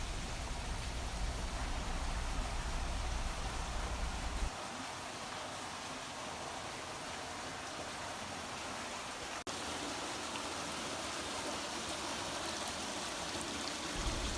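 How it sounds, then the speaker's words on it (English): Water trickles through salmon egg incubator trays in a school hatchery, a steady, even rushing wash that drops slightly in tone partway through and continues unbroken. "The water trickles down through the trays"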